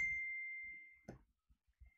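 A phone notification chimes once with a clear, steady tone that rings on and slowly fades over about a second, followed by a few soft knocks and handling noises.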